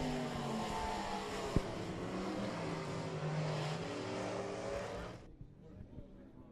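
Race cars circling the oval at Southern Raceway on a Friday night, a continuous loud roar of engines with rising and falling pitch as cars pass, a commentator talking over it, then the noise drops away abruptly near the end.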